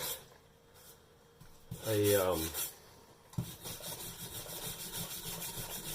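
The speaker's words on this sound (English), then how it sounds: "Right now I'm using a brass wire brush." A brass wire brush scrubs the metal of a 1941 Farnsworth during clean-up in a short burst of harsh rasping near the mic, with a quieter low hum before and after.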